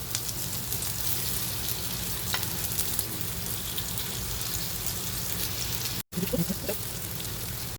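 Minced-meat kebabs fry in hot oil in a pan, a loud steady sizzle filling the whole stretch with a brief cut near the end, and no talking over it.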